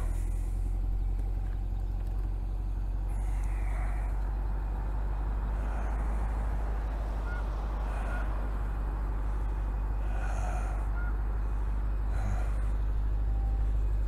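A C8 Corvette with a two-stage exhaust idles in a steady, deep low rumble that holds evenly throughout, with faint occasional higher noises in the background.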